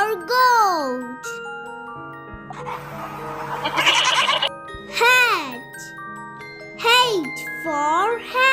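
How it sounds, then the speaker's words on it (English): A goat bleats in a short, rough burst between a child's sung lines of an alphabet song, with light jingling music underneath. "G for goat."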